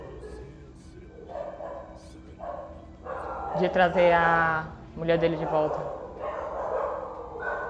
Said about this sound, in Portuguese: Mano, olha os cachorros.